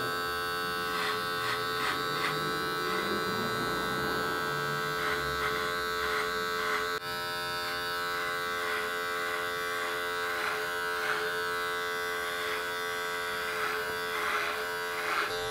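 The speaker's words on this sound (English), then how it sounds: "We are testing out the Supreme Andis Clippers right now." Supreme Andis electric hair clippers run with a steady, close buzzing hum and strong harmonic whine, briefly shifting in pitch as they move, with no talking over them.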